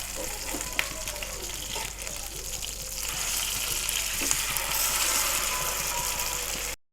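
Kokkar manji fish, Mangalore style, frying on a tava gives a steady, close sizzle with crackling that grows louder after it is turned over onto its other side.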